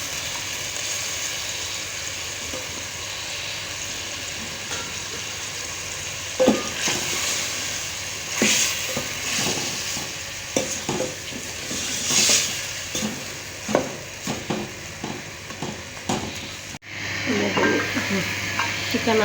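Chicken frying with moringa flowers in a pan gives a continuous sizzle with frequent spoon scrapes and stirring clatter, and a steady low hum runs through the whole clip.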